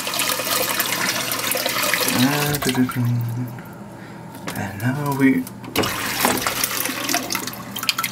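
Water sprays from a Japanese bidet toilet in a hotel room in Kyoto, a hissing, splashing jet that comes in two short bursts, with people talking over and between them.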